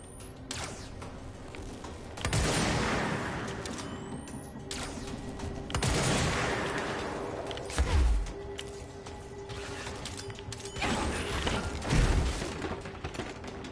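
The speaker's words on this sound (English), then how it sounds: "Oh, okay, they're shooting me." Enemy gunfire aimed at the player in the video game Control, heard as a few sharp bursts and heavy thuds around 2, 6, 8 and 12 seconds over a steady mechanical game ambience, with no talk.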